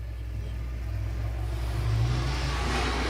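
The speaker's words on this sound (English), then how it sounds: "RPMs come up, and we're back to green" Stock car engines at Raceway Park rumbling and rising in revs, a dense, loud, continuous roar that builds steadily over a few seconds.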